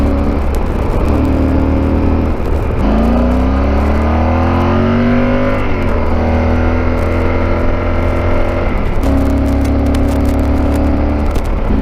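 A Yamaha Super Tenere motorcycle engine on twisting backroads, heard up close as a continuous drone that sags and then climbs in pitch as the rider slows into corners and accelerates out, with wind rush throughout.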